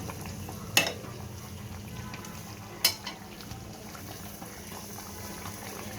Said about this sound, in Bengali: মুরগির মাংস বলক উঠে পড়ছে